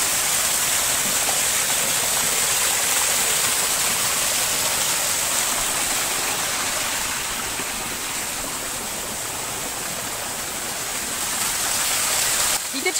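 A flowing water feature in the bamboo grove of Prague's Troja botanical garden pours in a continuous, even hiss and splash, close and loud, with no one talking.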